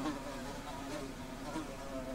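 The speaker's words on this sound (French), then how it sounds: "Un bourdonnement m'enveloppe. C'est les mouches qu'elle entend" A dense, steady buzzing of flies surrounds the listener in a horror video game, continuous and fairly loud with slight swells, with no speech over it.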